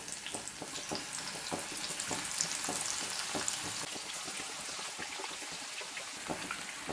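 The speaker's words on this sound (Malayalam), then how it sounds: "ഇതിൽ തന്നെയാണ് നമ്മൾ ഈ ചെമ്മീനൊന്ന് വറുത്തെടുക്കാൻ പോണത്" Prawns frying in a hot pan, a steady crackling sizzle with irregular pops and spits throughout, close and moderately loud with no voices.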